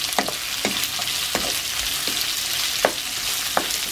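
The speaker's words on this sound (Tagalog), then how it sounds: "So, hayaan natin medyo maluto yung sibuyas." Onion and pork belly frying in a pan, a dense close-up sizzle with regular spatula scrapes every half second or so, no talking.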